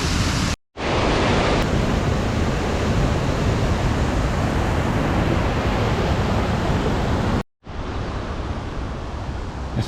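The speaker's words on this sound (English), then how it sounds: "It's a very nice waterfall." A waterfall roars close and loud, a continuous heavy wash of water, cut by two brief silent gaps.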